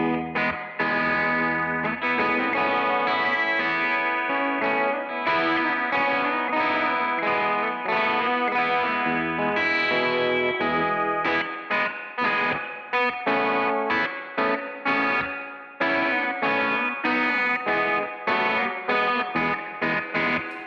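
Electric guitar played through effects with chorus, distortion and echo, using a changed picking style: dense sustained chords and plucked notes ring loud and continuous, breaking into choppier picked phrases toward the end with no voice.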